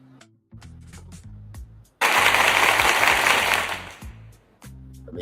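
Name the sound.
applause sound effect played in StreamYard livestream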